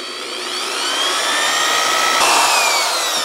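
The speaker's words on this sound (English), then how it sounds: "we got to drill a hole on the bottom of the cups" A power drill whines steadily at high speed, grinding holes through the bottoms of plastic cups, loud and close with no talking.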